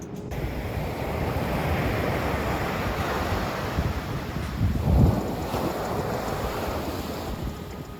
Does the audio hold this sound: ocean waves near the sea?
yes